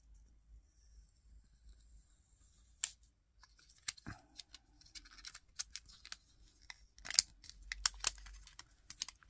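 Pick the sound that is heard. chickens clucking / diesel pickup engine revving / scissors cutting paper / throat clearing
scissors cutting paper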